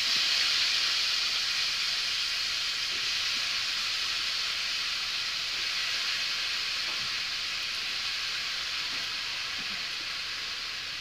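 Potatoes frying in hot oil in a wok give a steady, bright sizzling hiss that runs continuously and eases slightly in loudness toward the end.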